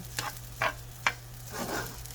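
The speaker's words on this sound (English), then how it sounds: "See how you can kind of hear it ting up against the pan." Rice sizzles in a hot pan while a utensil scrapes and stirs it in a few quick strokes, close and steady.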